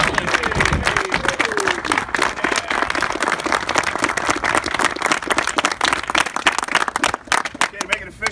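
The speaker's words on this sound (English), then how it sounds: "All right, round of applause, everybody." A room of people claps at a military promotion ceremony, a steady crackle of many hands that runs throughout and thins out briefly toward the end, with some background voices mixed in.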